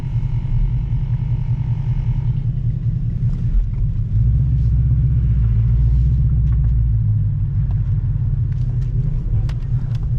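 A Ford Mustang's engine rumbles heavily at close range in the lead-up to a launch, a deep continuous throb that thickens midway with faint clicks and clatter, no talking.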